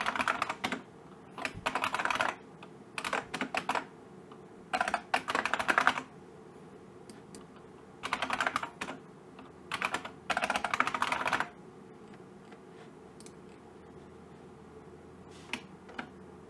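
Computer keyboard keys clatter in quick bursts while a username and password are entered, short runs of typing separated by pauses, close and clear with no talk.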